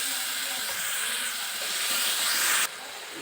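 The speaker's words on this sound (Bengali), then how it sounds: "একটু জল দিয়ে দিচ্ছি অল্প করে" Water poured into a hot pan of chicken cooking with turmeric sets off a loud, steady steam hiss that fills the whole clip, then drops abruptly near the end.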